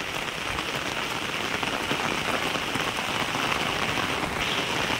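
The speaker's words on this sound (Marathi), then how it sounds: "जोरदार पाऊस आणि हा नजारा बघा." Heavy monsoon rain pours at Marleshwar, drumming on stone steps in a dense, unbroken hiss that stays loud and even throughout, with no voices.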